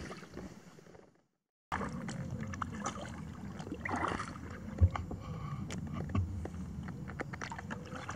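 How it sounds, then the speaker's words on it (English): Galaxy Sturgeon kayak paddled upstream on a river in the evening, with steady water swishes and splashes from the paddle strokes, close and continuous after a brief pause of silence, with light wind noise. "Kind of paddling along"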